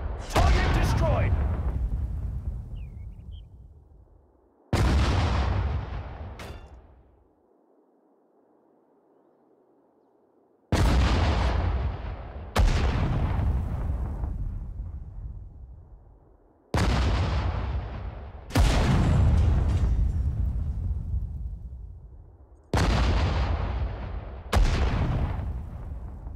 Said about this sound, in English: Artillery, fire! Artillery, fire!